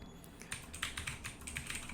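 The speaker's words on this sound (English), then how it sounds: "we're going to type the path that we want to add to that" Quiet, fast typing on a computer keyboard, with a quick run of light clicking keystrokes close to the microphone and no voices.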